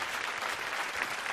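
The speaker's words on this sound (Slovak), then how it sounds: "všetko rusnáci tleskajú" Audience applauding at a televised talent show finale, a steady dense wash of clapping from a large crowd with no voices over it.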